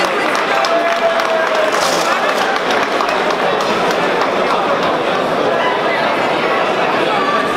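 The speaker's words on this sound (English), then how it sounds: "Please, a round of applause for both boxers" Crowd at a charity boxing fight night applauding both boxers, steady clapping mixed with chatter and cheering that fills the venue throughout.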